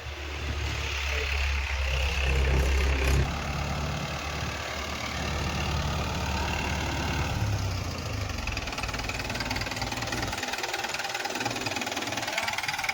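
Tractor engine running on a farm, a steady mid-pitched chugging drone that is louder at first and then holds at a constant level throughout.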